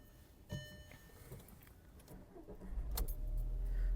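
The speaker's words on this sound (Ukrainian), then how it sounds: "Двигун запускається чудово. Запуск двигуна йде на холодну." A Skoda Octavia 1.6 MPI engine with 210,000 km cranks from cold and catches near the end, its low rumble building and settling into a steady idle after a few quiet clicks and rustles.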